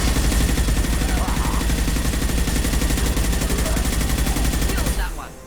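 Sustained rapid gunfire from the video game Mass Effect 2, a dense, loud burst of automatic shots that runs steadily and then cuts off abruptly near the end.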